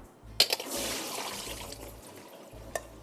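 Water is drained off soaked, cut zucchini in a kitchen, a soft splashing pour with a couple of sharp clinks near the start and at the end, fairly quiet and with no talking.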